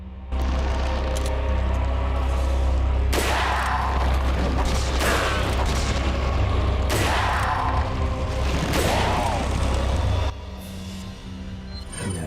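Gunshots in Resident Evil 4 on GameCube, a series of heavy booming shots spaced a second or two apart over a loud constant low rumble, ending with a quieter tail.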